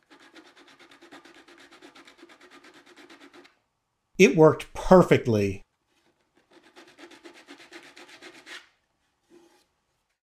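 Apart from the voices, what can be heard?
hand sanding wooden runner with piece of sanding belt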